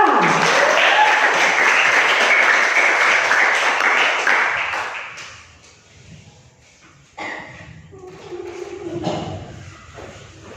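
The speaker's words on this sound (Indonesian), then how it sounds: "silakan tepuk tangan buat kelompok 2" Students in an Indonesian-language classroom applaud a presenting group, a loud burst of clapping that fades after about five seconds into shuffling, thumps and murmured voices.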